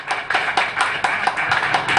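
Audience clapping hands together at a live astrology gathering, a crowd's irregular patter of claps that holds steady throughout, with no voices over it.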